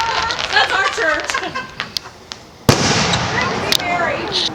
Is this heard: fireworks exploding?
yes